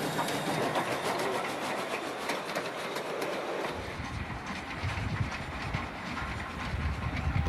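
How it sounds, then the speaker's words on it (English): The Cockle Train, a steam train running between Victor Harbour and Goolwa, rolls past close and loud with continuous rail clatter and a hissing rush, its low rumble deepening partway through. "The Cockle train, another one of Steam Ranger's services, does a short return trip from Victor Harbour to Goolwa on Lake Alexandrina."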